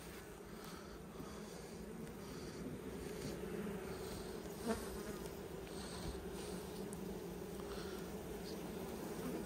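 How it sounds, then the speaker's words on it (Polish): Honeybees, apparently Italian, hum in a steady, soft buzz around an opened hive just before sunset, with no pauses or voices. "Bardzo spokojna pszczoła, o dziwo"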